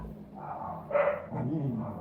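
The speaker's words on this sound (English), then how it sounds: "You dogs don't start barking now." Dogs bark in the background, a couple of short muffled barks, with someone talking at the same time.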